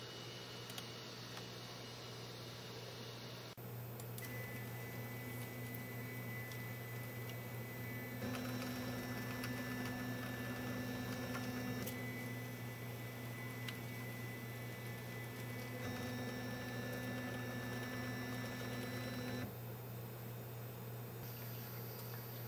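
A RepRap 3D printer runs a G-code bed-leveling routine that traces a simple square pattern, its stepper motors giving a steady mechanical whir with shifting tonal hums as each move starts and stops, heard alone with no voices.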